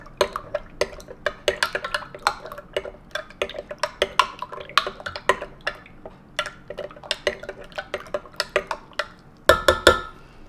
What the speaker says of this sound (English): I'm gonna put a teaspoon inside. And I will keep mixing.